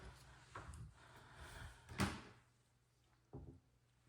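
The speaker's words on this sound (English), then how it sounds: "Pull out drawers here." Pull-out drawers in a kitchen pantry unit slide and knock shut, with a few distinct rolling and thudding movements, the sharpest near the middle, heard close and fairly quiet in a room.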